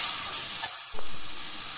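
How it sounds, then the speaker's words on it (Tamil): Chopped broccoli sizzles loudly in a hot pan, a steady close-up crackling hiss with a brief dip and a quick stirring scrape. "மெலிசா நறுக்கி வச்சிருந்த ப்ரக்கோலியை சேர்த்து வதக்கிக்கோங்க"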